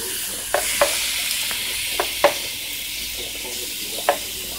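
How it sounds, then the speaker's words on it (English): Bite-sized chicken breast pieces stir frying in seasoning in a single pot, a constant close hiss of sizzling with a few sharp knocks of a utensil against the pan. "I'm gonna add that to the seasoning and kind of stir fry it a bit."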